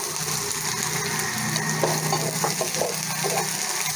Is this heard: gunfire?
no